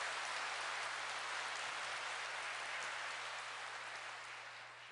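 Applause fills a Korean Catholic New Year Mass for a Seoul archdiocese vocations support society, heard as a steady, rain-like wash of clapping from a distant crowd. It stays faint and even, easing slightly toward the end, with no voices.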